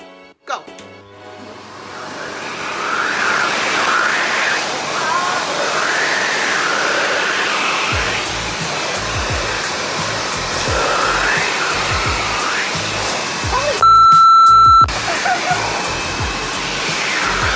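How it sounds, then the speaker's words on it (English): A leaf blower roars at close range, blasting a steady loud rush of air straight into faces, with people talking and laughing over the noise throughout. "the second challenge is to put on this beautiful red lipstick while the blower is blowing in our face"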